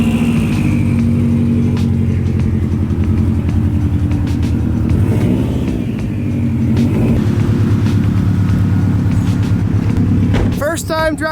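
A widebody Subaru WRX, freshly fitted with new wheels, drives with a loud steady engine rumble and harmonic drone, closing with a sharp burst of noise near the end.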